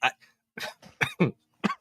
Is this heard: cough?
yes